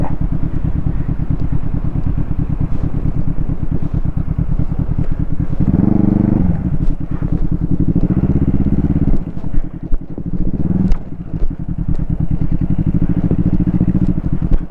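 A Kawasaki ER-5 motorcycle riding along a coastal road, its engine droning loud and close with a continuous low rumble that swells in revs midway, with wind noise over it and no talk.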